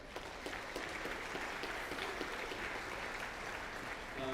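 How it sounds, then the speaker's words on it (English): Applause from the audience at a fifth grade band concert, a steady patter of many hands clapping at moderate volume with no voices over it. "So you give yourselves a round of applause."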